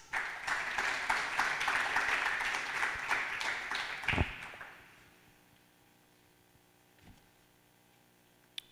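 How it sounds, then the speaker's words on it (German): An audience at a poetry slam applauds loudly, dense clapping with a few sharp individual claps standing out, then dying away into a quiet room with an occasional stray sound. "Bitte begrüßt mit einem riesigen Applaus noch einmal am Mikrofon."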